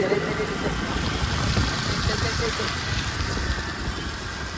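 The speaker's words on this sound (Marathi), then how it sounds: "गाडी धक्के मारते." A motorbike engine running low on petrol, about to cut out, sounds as a loud, close, continuous rough drone with a steady level throughout.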